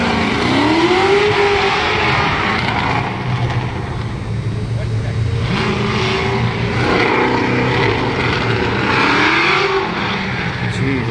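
Drift car at Irwindale Speedway, estimated at 500–600 horsepower, with an open-header engine roaring loudly and revving up and down in sustained sweeps close by, with people talking faintly underneath.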